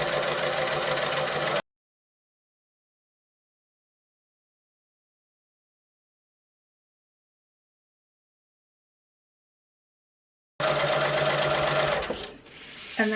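A sewing machine stitches a reinforcing seam where the flap joins a clutch wallet, running steadily for about a second and a half, then silent for a long stretch before a second loud, even burst of rapid stitching.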